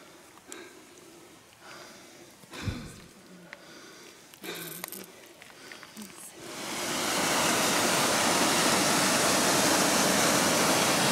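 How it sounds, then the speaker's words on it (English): A waterfall on a Colorado hiking trail at dawn, a steady loud broadband rush that swells in over the second half after quieter handling noises and breaths. "So I hiked up this waterfall that we just found on this trail."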